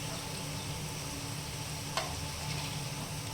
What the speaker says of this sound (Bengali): একটু সময় লাগবে ভাজতে